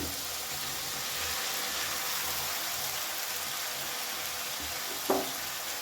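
Chopped cabbage frying with spices in a pan for a fish-head cabbage ghonto, a steady close sizzle with a brief stirring clatter near the end.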